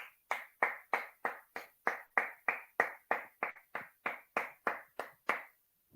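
A single pair of hands claps alone in a slow, steady rhythm, about fifteen crisp, evenly spaced claps, close and clear against silence.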